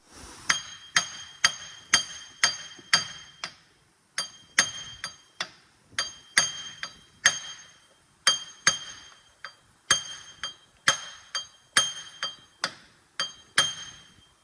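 Repeated metallic hammer strikes on the front wheel hub of a Dodge Grand Caravan 3.8 ring out in bursts of several blows with short pauses, each hit bright and clanging, close by.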